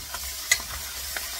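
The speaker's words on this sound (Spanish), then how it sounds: "vamos meneando." Onion and chili stirred in a frying pan, with short scraping strokes and a sharp clink of a utensil against the pan over a low sizzle.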